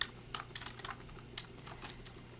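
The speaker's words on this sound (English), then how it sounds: "let me just finish typing" Fingers tap quickly on a computer keyboard, a close, crisp run of uneven clicks with brief pauses, over a faint steady hum and no voices.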